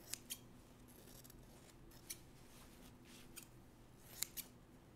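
Scissors snipping fabric while trimming pieces for a Dresden quilt block, a handful of crisp, close, quiet cuts spaced irregularly over a low room hum, with no talking.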